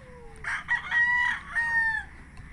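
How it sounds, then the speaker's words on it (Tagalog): A rooster gives one full, drawn-out crow close by, loud and clear, with a quieter hen clucking faintly underneath. "Ngayon tapos na ako magpakain sa mga manok."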